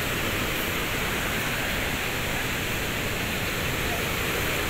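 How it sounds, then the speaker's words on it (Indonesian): Blangsinga waterfall in Bali heard from its upper edge, a constant loud roar of rushing water with a dense, unbroken hiss and no pauses. "Berarti ini posisi atas dari air terjun itu."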